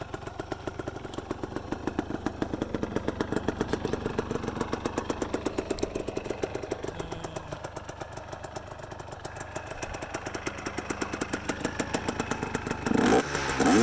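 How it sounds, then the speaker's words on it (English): A GPX TSE250R motorcycle runs on a motocross track in near-stock form, its single engine giving a steady, rapid thumping drone with mild rises in revs, loud and unbroken with no talk. "you can hear a bit of what the engine sounded like in a relatively stock form"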